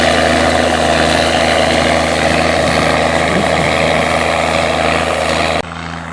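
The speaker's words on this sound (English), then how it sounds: "the Massey Ferguson 5200 four-wheel drive paired up here with a Massey Ferguson 820 disc" Massey Ferguson 5200 four-wheel drive tractor pulling an 820 disc, a loud, steady droning engine roar with a constant hum close by that drops suddenly in level near the end.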